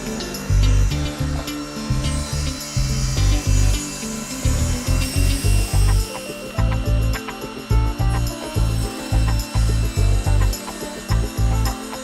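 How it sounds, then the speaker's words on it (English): Table saw ripping the face off a wooden tenon while building a studio stool, loud close cutting bursts of whining blade and wood rasp that start and stop repeatedly over a steady motor hum. "I'm going to rip the face off"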